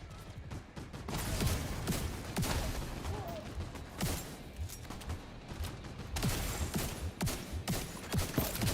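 Gunfire and a grenade explosion in a video game, with dense, loud bursts of shots and blasts repeating through the whole stretch.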